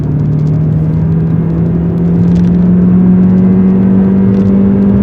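An MG HS SUV accelerates hard from a standstill toward 100 km/h in super sport mode with stability control off, its engine a loud, steady, close rumble whose tone climbs gradually throughout.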